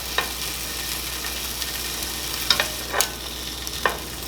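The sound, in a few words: marinated hot dogs sizzling as they are turned over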